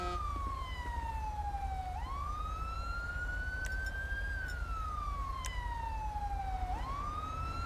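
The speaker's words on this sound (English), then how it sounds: "can you shut your siren off?" A police car siren in GTA San Andreas, a loud wailing tone that sweeps slowly up and down over a low engine rumble, with no voices.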